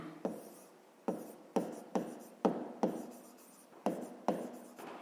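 A pen taps and scratches on paper in short, regular strokes about once a second while a fifth-grade maths division problem is written out by hand, quiet and close with no talk.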